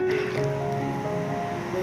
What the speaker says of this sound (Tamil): ஒரு முக்கால் கிளாஸ் அளவுக்கு தண்ணி சேர்த்துக்கலாம்